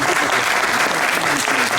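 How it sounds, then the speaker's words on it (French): A festival crowd at the 2025 UAICF national variety festival applauds the Farandoleurs Limois folk dance troupe, loud sustained clapping with voices carrying over it. "Un tonnerre d'applaudissements pour eux."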